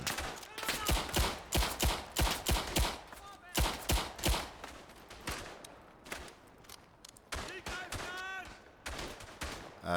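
Rapid, loud bursts of old-school machine gun fire from German machine gunners in the World War I shooter Verdun, repeating in close volleys with short pauses between them.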